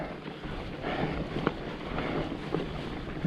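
Strong wind gusts roar steadily across a microphone high above a winter desert canyon, a continuous broadband rush with a few sharper buffets.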